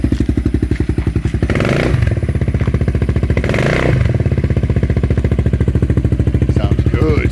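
A Yamaha Morphous 400 scooter fitted with a Yoshimura RS3 muffler idles with a deep, steady pulsing exhaust, swelling twice in brief throttle blips before settling back, loud and close.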